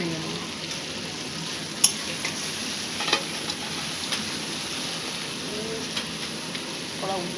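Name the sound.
frying fish head in spice paste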